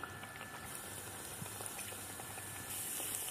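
Pieces of dough dropped into lightly heated oil set off a steady, soft bubbling fry, an even hiss that swells a little louder near the end.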